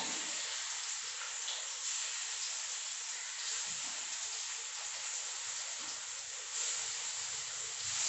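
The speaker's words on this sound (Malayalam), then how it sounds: "മീനെല്ലാം ഇങ്ങനെ പറക്കി ഇതിനകത്തോട്ട് ഇട്ട് കൊടുക്കാം" Small sardines frying in hot oil in a pan, a steady loud sizzle and hiss that runs unbroken throughout, close up, with a brief swell in intensity near the end.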